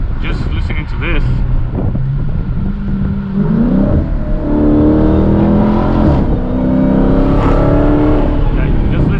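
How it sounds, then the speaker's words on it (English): A Dodge Challenger Hellcat engine whines and rises in pitch as the throttle is blipped, a steady high mechanical tone over low rumble, with someone talking over it. "like, just listening to that whine"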